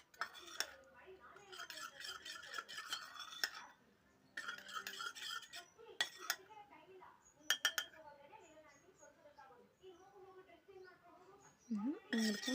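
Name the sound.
mixing turmeric face pack in a bowl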